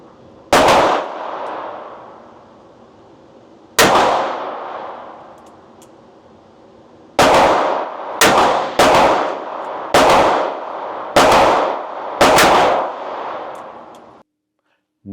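Revolver shots fired one at a time at a range, eight loud, sharp reports with ringing decay, the first few spaced seconds apart and the later ones in a quicker string.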